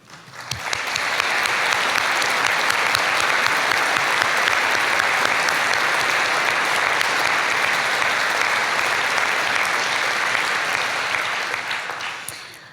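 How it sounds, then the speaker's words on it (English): Graduates and their audience at a 2016 awards congregation applaud in a sustained, dense round of clapping that holds steady for several seconds before tapering off at the end, with no voices over it. "give yourself a round of applause"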